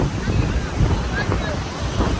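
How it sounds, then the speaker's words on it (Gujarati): Sea waves surge and crash continuously over a Shiva lingam on the shore at Somnath, a dense, steady roar of surf with wind buffeting nearby. "કન્ટિન્યુઅસ દરિયાની લહેરો શિવલિંગ ઉપર જળજળાઈ રહી છે."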